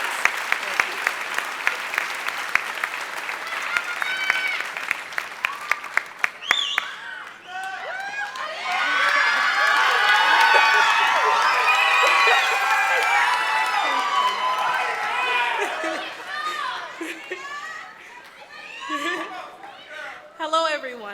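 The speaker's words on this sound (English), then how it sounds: "Everyone but the graduates, please give them a round of applause." A commencement crowd applauds graduates, starting with sharp scattered claps from nearby hands, then swelling into loud sustained clapping mixed with cheers, whoops and chatter before slowly thinning out.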